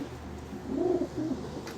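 Pigeons coo softly in a low, rounded burst over a quiet background, the calls coming from nearby birds kept by a pigeon fancier.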